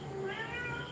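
A Maine Coon Persian mix cat lets out one drawn-out, tonal meow, close to the microphone and clearly audible for about a second.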